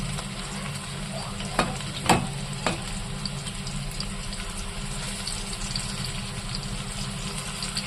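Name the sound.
food frying in a pan after being flipped to its second side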